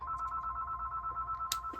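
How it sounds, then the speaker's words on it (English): A telephone rings steadily and repeatedly, a near electronic trill in a home crafting room, sounding alone with a brief sharp click near the end. "And I'm just gonna have to ignore that phone."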